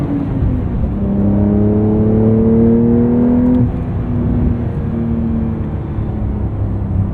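A 2023 Porsche 911 Carrera T with a manual gearbox accelerates, its engine note climbing steadily in a close, sustained drone before easing after a gear change, with no talking.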